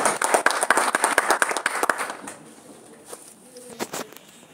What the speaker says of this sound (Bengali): করতালি হয়ে যাও।